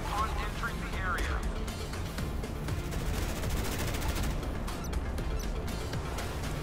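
Anti-aircraft guns firing in the naval combat game Modern Warships: rapid automatic bursts crackle over a dense, continuous wash of game noise and engine rumble, with a voice talking over it.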